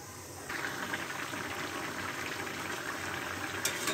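Fish curry with potato and pointed gourd bubbles gently in a covered pan, a soft continuous simmer with faint steady bubbling and no voices.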